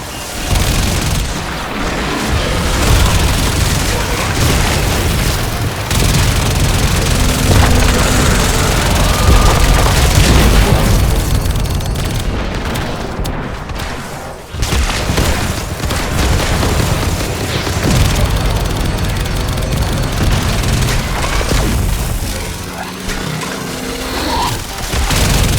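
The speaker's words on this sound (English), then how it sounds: "I've only got a few mortars left. Firing them all." Mortar fire and explosions in the game Warframe: loud, dense booming and rumbling blasts layered with gunfire, continuous and close, with a brief lull midway.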